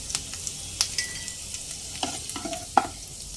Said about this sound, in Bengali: কিশমিশগুলো সব দিয়ে দেব লো ফ্লেমে হালকা ভেজে নেব